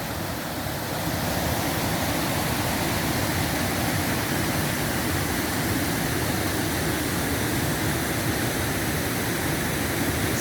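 A waterfall on a coastal hiking path between Heddons Valley and Lee Bay, heard as a steady, dense broadband rush of falling water that stays loud and unchanging throughout, with no voices.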